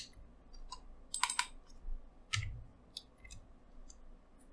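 A computer mouse clicks several times in sharp, close, faint bursts, including quick double clicks, while working in Creo Parametric CAD software, over a quiet background with no talking.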